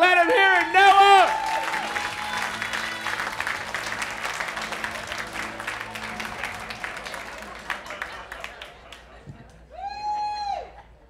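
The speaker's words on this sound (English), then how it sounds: "Big round of applause for Noah Royak." A comedy club audience at McCurdy's Comedy Bootcamp bursts into applause and cheering as a comedian takes the stage, loud at first and then fading over several seconds, with voices over it.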